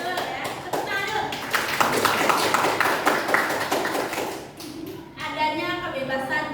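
Classroom applause during a lesson: a group of children clapping steadily for several seconds, then fading, with voices mixed in.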